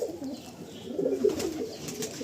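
Young pigeons in a loft give close, gentle throaty coos, a rising and falling burst in the middle of a quiet room-like background.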